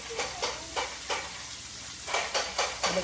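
Pork and shrimp frying in separate pans, with a steady sizzle broken by rhythmic scraping stirs, close and moderately loud, with no talk.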